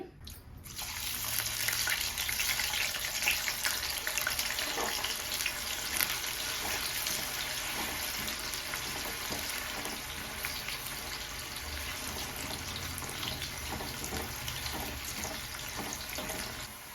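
Food frying in oil over a low flame, a steady dense hiss that holds evenly for the whole stretch with faint crackles and no talk.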